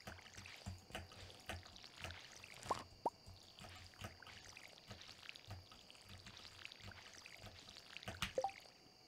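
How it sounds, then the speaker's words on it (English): A watering can sprinkles coffee crops in the farming game Stardew Valley Expanded. Faint splashes and drips come in short clusters over a quiet ambient bed, with a few sharper plops near the start and the end. "I would like to water the coffee."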